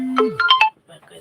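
Phone ringtone: a short melodic electronic jingle of four rising tones after a sliding note, clear and close, then a brief quiet tail.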